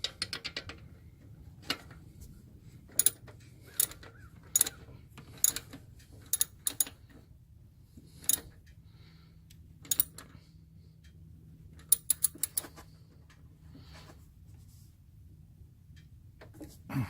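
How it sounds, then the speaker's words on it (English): On a 1997 Jeep Wrangler, a screw on the serpentine belt tensioner is tightened with sparse, sharp metallic clicks spaced irregularly, close and distinct over a quiet background. "all we have to do to finish up the job is to tighten this screw"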